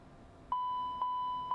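A smoke detector test warning chimes in the cockpit of a Challenger 650 business jet in X-Plane 12, a steady electronic tone pulsing about twice a second over a quiet background hum, with no speech.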